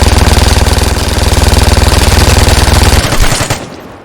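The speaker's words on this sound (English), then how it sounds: "he's using the Machine Gun 3" Rapid automatic machine gun fire in the video game Vigor, a loud, steady stream of closely spaced shots for about three seconds before it breaks off and trails away.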